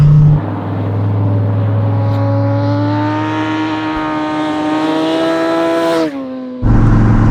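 A 2017 Dodge Viper GTS-R ACR special edition is driven hard, its engine note climbing steadily under acceleration in a long sustained pull, then dropping abruptly at a gear change before surging again, loud and close.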